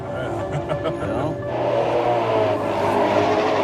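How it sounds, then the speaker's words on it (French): Cars racing along a motorway in a police chase, steady engine roar and passing traffic filling the whole stretch, with some speech-like sound mixed in. "La voiture de police continue la chasse."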